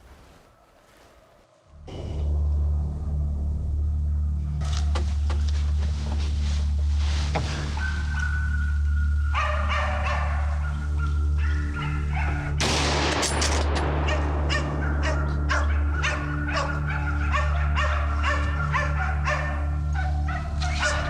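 Dogs barking during a wild boar hunt, a loud continuous din of many overlapping barks and yips outdoors with a low engine-like drone beneath, and sharp bangs mixed in.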